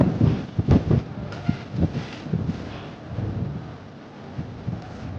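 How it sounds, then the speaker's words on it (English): Wind gusts buffet a microphone at a coastal campsite in Dorset, producing irregular low rumbling thumps and blustery roar, moderately loud and uneven, with no clear talking. "Yeah, windy."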